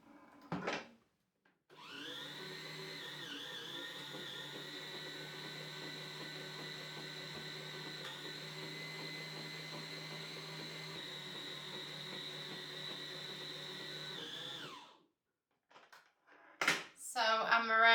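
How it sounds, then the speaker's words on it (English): An electric stand mixer whirs continuously while beating meringue, a loud steady motor drone with a slight wavering pitch that starts after a brief clatter and stops abruptly near the end. "I'm just going to beat mine in the mixer"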